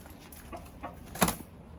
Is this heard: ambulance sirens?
no